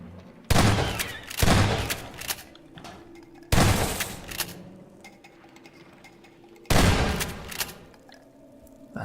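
Three loud shotgun blasts from Half-Life 2, each a sharp boom with a decaying tail, spaced a few seconds apart over quiet game ambience.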